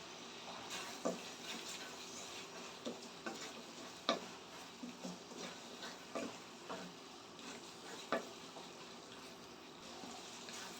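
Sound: curry leaves added to pan, stirring and sizzling

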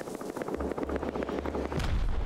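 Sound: rocket launcher firing rockets in video game Rust

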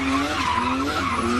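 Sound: race jeep sliding sideways with tire skid at hill climb

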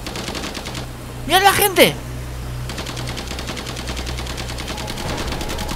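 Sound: laser ray firing in the video game War of the Worlds

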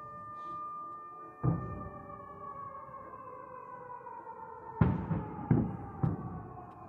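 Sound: distant explosions

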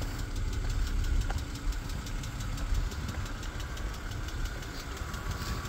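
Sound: 2007 BMW X3 engine running

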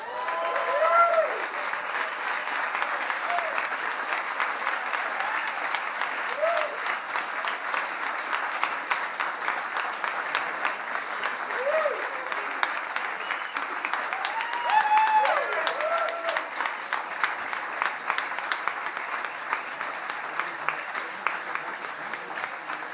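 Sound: audience round of applause at music prize

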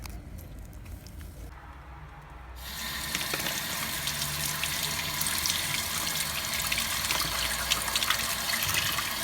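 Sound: washing stones under running water

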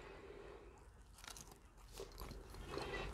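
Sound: biting into a McDonald's crispy spicy chicken sandwich

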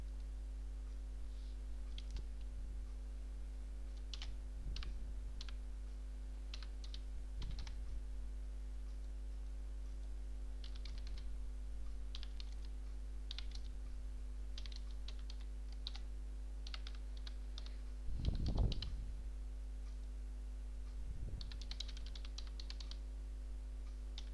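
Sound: typing on a computer keyboard, filling in login fields

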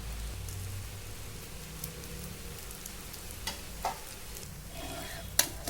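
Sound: ghavan rice crepe roasting on griddle

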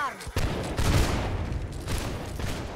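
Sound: musket volley fired on command in Holdfast video game

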